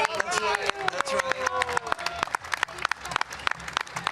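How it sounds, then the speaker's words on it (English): Applause on a postgame show after an LAFC v MTL match, a small group clapping in quick, uneven bursts, close and fairly crisp, with a voice calling out over the start. "Give her a round of applause"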